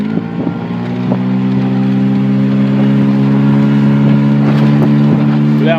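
HDX 9.8 R series outboard boat motor running with a strange whistle, a loud steady close engine drone with stacked harmonics, light wind buffeting and a faint high whistling tone over it.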